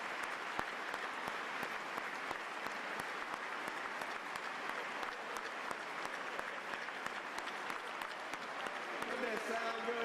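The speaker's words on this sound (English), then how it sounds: "just let the applause flow over you" Sustained, even applause from a gathering of business leaders honoring Atlanta police officers fills the space, a thick continuous patter of many hands with voices faintly mixed in.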